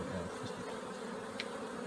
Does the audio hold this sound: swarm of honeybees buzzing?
yes